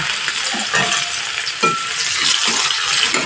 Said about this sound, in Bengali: পেঁয়াজটাকে একটু ভালো করে ভেজে নেব গ্যাসের ফ্লেমটা মিডিয়ামেই আছে